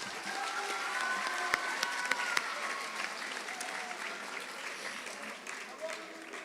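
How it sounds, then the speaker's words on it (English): Steady applause from a school audience at a middle school awards ceremony, with dense clapping sustained for several seconds and some faint crowd voices underneath. "Give them a big round of applause."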